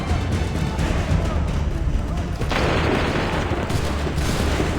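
Musket volley fired on command in Assassin's Creed III, a loud, dense burst of gunfire with a sharp surge midway, rolling on under shouted orders in the background.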